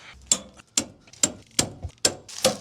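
A torque wrench clicks sharply, about six evenly spaced clicks, while the U-bolt nuts on a Jayco Octane travel trailer's leaf springs are tightened; close and fairly quiet, with no talk.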